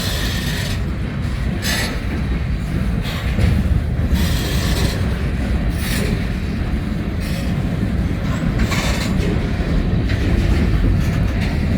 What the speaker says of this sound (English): A very good long train.